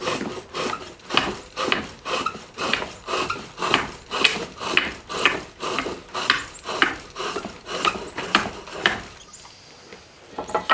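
Rhythmic rasping cuts as a wooden spindle spins on a foot-powered pole lathe, the tool peeling shavings in about a dozen regular strokes, close and fairly loud, stopping near the end.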